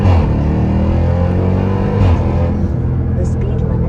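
A Jeep Trackhawk fitted with an Incognito supercharger pulley drives off with a loud, steady engine roar and deep rumble that holds throughout, swelling slightly near the middle.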